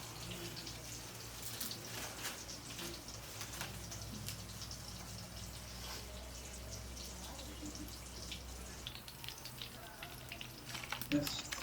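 Rava-coated prawns frying in hot oil make a faint, continuous sizzling hiss with small crackles, steady and fairly quiet, with a slightly sharper pop near the end.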